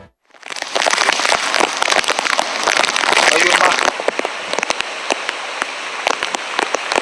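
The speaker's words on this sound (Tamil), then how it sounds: "பெஞ்சல் புயல் கரையை கடந்த பிறகும் புதுச்சேரியில் வெளுத்து வாங்கிய கனமழை." Heavy rain pounds down in Puducherry after Cyclone Fengal, a loud, dense roar of drops drumming on surfaces that eases slightly after about four seconds into steady rainfall with scattered sharp splashes.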